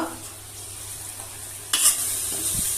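Chicken masala sautéing in a pan, a steady close sizzle that grows louder partway through, with a light scrape of stirring near the end.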